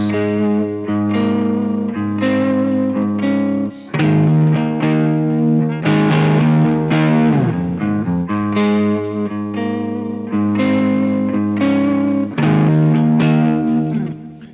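A guitar plays the chorus part of a song, a distorted, effects-laden riff with sustained chords and repeating phrases ringing loud and close, alone without talk.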